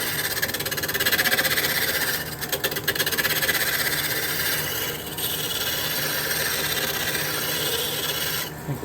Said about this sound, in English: just a roughing gouge